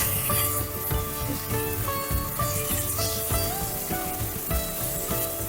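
Tomato hitting hot oil in a pan with fried onion and garlic gives a loud, close crackling sizzle under a steady hiss, broken by a few scraping stirs, with no voices.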